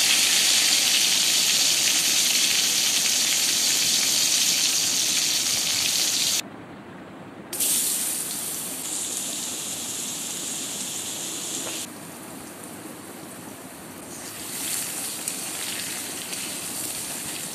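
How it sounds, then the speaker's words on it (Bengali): Potato pieces with a little salt and turmeric fry in oil left over from frying rohu fish, giving a loud, continuous sizzling hiss that drops and swells in intensity as the pan settles. "মাছ ভেজে তুলে নেবার পর এই মাছ ভাজা তেলের মধ্যে দিয়ে দেবো আলুগুলো"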